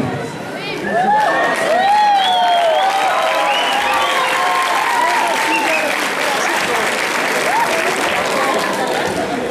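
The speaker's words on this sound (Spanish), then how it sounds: "aplausos para Mario Salazar." Audience applause and cheering for a male cosplay contestant at the Expo Comic Ichiban 2011 convention, a dense crowd clapping loudly with shouts and whistles over it, sustained for several seconds.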